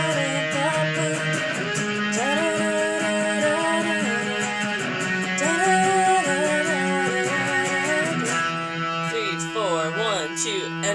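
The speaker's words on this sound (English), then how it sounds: "you are just going to strum the octave and stop strumming" Electric guitar in a group sectional setting, playing a sustained, ringing figure over other instruments, with layered held notes and shifting melodic lines filling the mix at steady moderate loudness, no speech.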